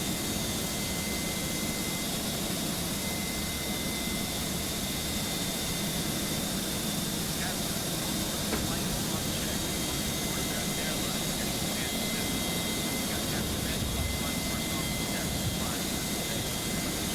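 Airbus A300-600 jet engines in a flight simulator game, a steady broadband roar and whine that runs unbroken throughout, with a constant high tone on top and no talk.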